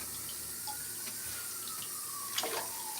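Tap water runs steadily while hair clips are rinsed clean of conditioner, a soft, even rush with faint splashes and drips, quiet and close.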